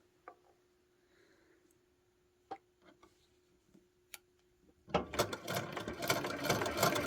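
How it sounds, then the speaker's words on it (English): Quiet ticks and small clicks from handling fabric give way to a sewing machine starting up near the end, loud and close as it sews fabric pieces together. "I'm going to sew these all together"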